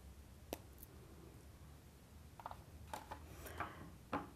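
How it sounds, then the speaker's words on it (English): Jewellery wire snipped with cutters about a centimetre above a threaded bead: a handful of small, sharp clicks spread across a quiet room, with no talking. "Then we just cut this roughly at 1 centimetre."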